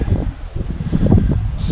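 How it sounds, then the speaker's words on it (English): Strong gusting wind blows outdoors beside a canal, rumbling and buffeting close to the microphone with uneven surges, while speech is faintly mixed in. "it's very windy"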